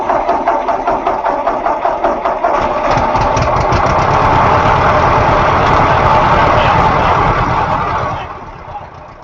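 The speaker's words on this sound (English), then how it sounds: "Turning on the key, pressing the clutch, putting into neutral, and then hitting the starter" An antique vehicle engine, started with a floor-mounted starter, runs loudly at close range with a rough, rapid chugging idle that holds steady before fading slightly at the end.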